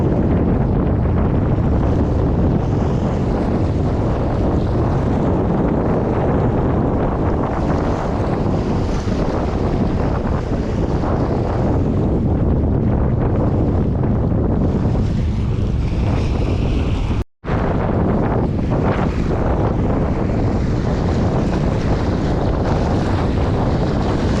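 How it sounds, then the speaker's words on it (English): Steady crackling sizzle of a pork and apple sausage patty frying in a hot pan, rising and spreading into a broad hiss, with some clatter near the start. "Pretty dang windy out here."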